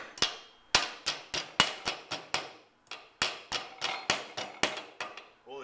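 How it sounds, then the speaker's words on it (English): Hammer striking metal to form figure legs on a vise, a close series of sharp ringing blows in uneven bursts, each decaying quickly, with a short pause partway through. "All the time keeping the face of the hammer hitting, so my hammer is rotating."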